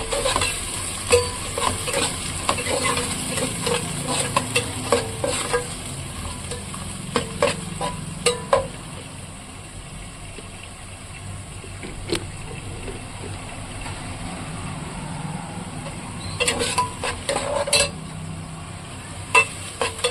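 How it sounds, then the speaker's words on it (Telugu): Sliced onions frying over high flame in a pan for a drumstick and mushroom curry, with a continuous sizzle and repeated scraping stirs, clusters of sharp clinks of a utensil against the pan. "ఆనియన్స్ చక్కగా వేగాలి"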